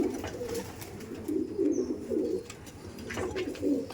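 Several Kalodom pigeons in a South 24 Parganas breeding loft give repeated deep, burbling coos in pulsing bursts, heard up close amid faint background rustle.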